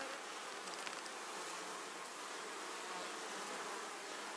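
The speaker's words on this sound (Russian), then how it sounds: "Смотрите, какая активность на 5 мая, как работают пчелы" Dense, continuous buzzing of many honeybees at a hive, a steady hum that neither rises nor falls, with no voices.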